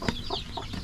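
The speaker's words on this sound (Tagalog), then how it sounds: "Yung ating manok na tukong, yung walang buntot" A tailless hen with chicks gives a few quick, close clucks in a brief burst, with rustling farmyard noise around them.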